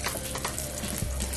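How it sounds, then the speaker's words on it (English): Trout cake patties sizzle steadily in a hot pan at a grill kitchen, a close, continuous crackling fry with no talk over it. "Hear that sizzle?"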